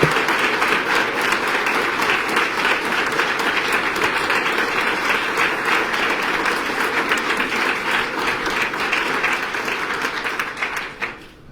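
Sustained audience applause fills a Sarasota Police Department swearing-in ceremony for a new police chief, dense steady clapping from a crowd that carries on loudly before trailing off at the end.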